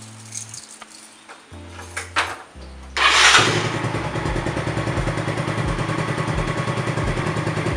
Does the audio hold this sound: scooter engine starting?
yes